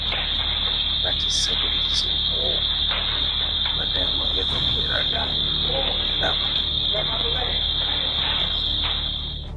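A loud store burglar alarm gives a steady high-pitched electronic tone throughout a raid on a gun shop, with clattering, bumping and rustling of thieves moving quickly underneath.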